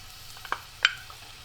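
Onion and garlic frying in olive oil in a pan, a soft steady sizzle with a couple of brief stirring clinks close by, no voices.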